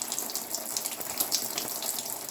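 Coolant draining from a loosened water pump on a Dodge Caliber, a steady splashing, trickling stream of liquid that stays fairly even throughout, with no talk.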